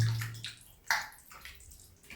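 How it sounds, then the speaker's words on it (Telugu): Raw chicken pieces being washed by hand in a bowl of water, with short sloshing and splashing bursts and one sharper splash near the middle, close and moderately loud. "ఒక బౌల్లో చికెన్ వేసుకొని చికెన్ అయితే కడుగుతున్నాను"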